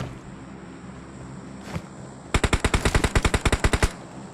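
A rapid burst of automatic gunfire in PUBG Mobile, about fifteen evenly spaced sharp shots in quick succession, preceded by a single faint shot over a low background hum.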